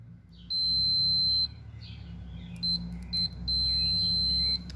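A multimeter continuity tester checking a car fuse sounds a high electronic beep, one long tone and then a few short ones before a second sustained beep, over a low background hum.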